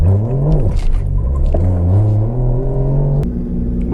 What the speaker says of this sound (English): With the new tune, it seems to be a bit more rev happy.